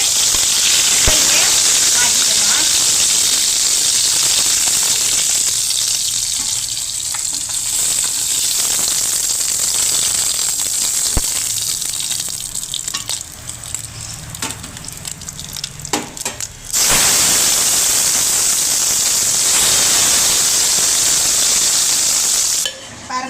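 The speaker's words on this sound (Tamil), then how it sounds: "இப்போ நாம் அதை வறுத்துக்கிட்டு இருக்கோம்" Spicy fish frying in a pan, a loud continuous sizzle and hiss that thins briefly midway before surging back, with occasional stirring clicks and a voice speaking over it at times.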